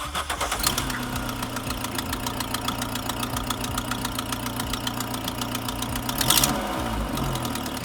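A car engine runs at a steady idle with a rough, rhythmic churn and a brief rise near the end. It is fairly close and there is no talk over it.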